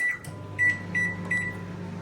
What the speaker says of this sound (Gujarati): હવે એના ઓવનમાં હીટ મતલબ ગ્રીલ કરી દઈશું